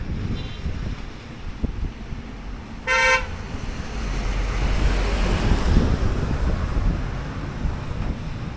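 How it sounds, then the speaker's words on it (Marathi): Monsoon waterfalls at Malshej Ghat produce a constant broad rush of falling water mixed with wind noise, and a vehicle horn gives a short toot early on. "इथे बघा सर्व वॉटरफॉल वाहत आहेत"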